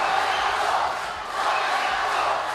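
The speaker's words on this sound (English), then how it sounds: "the Zahira crowd has finally found their voice here at the Sugathadasa Stadium" Zahira College supporters roar at a quarter-final football match in the Sugathadasa Stadium, a broad, distant crowd chant swelling and dipping twice, steady and fairly loud with commentary faintly under it.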